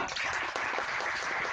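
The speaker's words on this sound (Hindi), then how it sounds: "कृपा शंकर जी, उनके लिए जोरदार तालियां" A seminar audience on Indian languages applauds Professor Kripa Shankar Choubey, a steady, fairly soft hiss of many hands clapping with no break.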